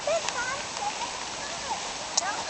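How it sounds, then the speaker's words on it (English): Rain falls outdoors near a garden and a Farmall Cub tractor, making a steady, moderate hiss throughout, with a few faint high chirps rising above it. "I'm going to get out of the rain here, guys."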